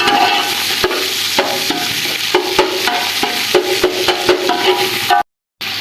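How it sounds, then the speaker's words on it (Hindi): Ginger garlic paste fries with browned onions in a pan as a spoon stirs and scrapes in close, regular strokes over a soft sizzle, ending in a brief cut to silence. "इसमें हम डालेंगे 1 चम्मच अदरक और लहसुन का पेस्ट है, इसमें ऐड कर देंगे। फिर अच्छे तरीके से 1 मिनट के लिए इसके साथ फ्राई कर देंगे।"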